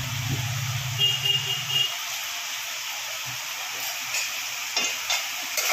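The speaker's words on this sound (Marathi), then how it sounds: "सगळ्या भाज्या व्यवस्थित कच्चा वास जाईपर्यंत फ्राय करायचे" Mixed vegetables fry in oil with turmeric and a little salt, giving a constant close sizzling hiss, with a low hum in the first two seconds and a few soft stirring knocks later.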